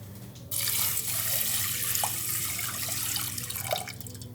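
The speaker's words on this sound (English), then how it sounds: "we have about a cup of wild rice that we're gonna add to a pot with 3 cups of water" Water runs from a tap in a steady, splashing stream for several seconds, filling a pot with about three cups of water for cooking wild rice.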